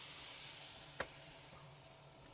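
Meat searing in a pan for Serbian Reisfleisch: a steady, quiet sizzle with one short knock of a utensil against the pan partway through.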